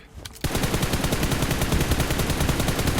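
Sustained spray of automatic gunfire in PUBG Mobile, a rapid, loud, evenly spaced burst of shots starting abruptly and continuing without pause.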